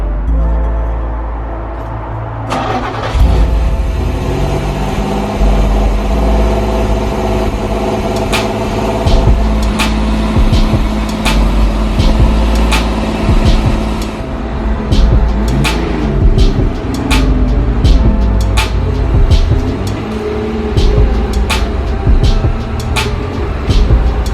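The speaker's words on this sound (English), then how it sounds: "It's time for a good old-fashioned cold start" A rebuilt wrecked car engine cranks over and catches on a cold start, then settles into a steady, loud, fairly high idle with a continuous low rumble and clicking and ticking on top, with no talk over it.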